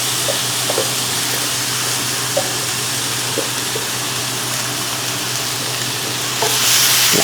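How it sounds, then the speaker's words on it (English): Chicken, pineapple and freshly cooked rice sizzle loudly and steadily in a hot frying pan, a dense, continuous hiss with faint stirring clicks throughout and no talking. "got the chicken, pineapple sizzling in the pan"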